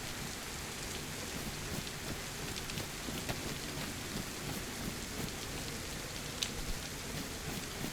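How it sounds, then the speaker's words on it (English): Steady heavy rain in the video game DayZ patters continuously, with scattered sharper drops and a low rumble beneath, no voices. "The rain is now working against me on this mission."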